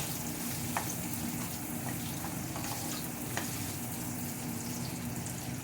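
Chopped onion sizzles steadily in a hot pan, a continuous frying hiss with occasional light clicks of stirring, close and fairly quiet.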